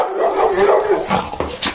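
Pit bulls and a chihuahua playing up close, producing a burst of loud growling barks and yips that break into short choppy bursts near the end.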